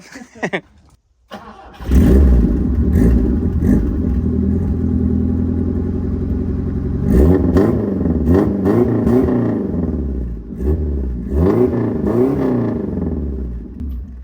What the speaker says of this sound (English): Could you start it up for me so we could just hear it? There is a hole in the exhaust, Adam.